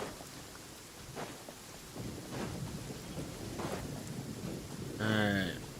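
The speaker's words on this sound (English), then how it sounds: "Storm be a brewing." A thunderstorm brews in the Genshin Impact game world, with steady rain and low rumbling thunder swells, then a brief tonal game sound near the end.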